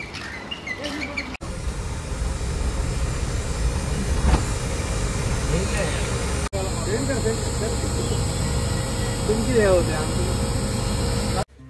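A Chevrolet Tavera drives near Rameshwaram, its engine and road noise a loud steady rumble inside the cabin, with birds chirping outside early on and voices talking over it.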